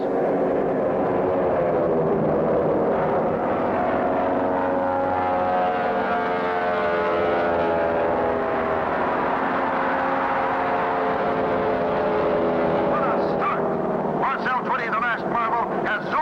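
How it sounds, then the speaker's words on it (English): Propeller race planes revving up and taking off at an air race in a cartoon, a steady loud engine drone with layered harmonic tones that holds throughout, with rougher sputtering near the end. "Attention, pilots. Man your planes."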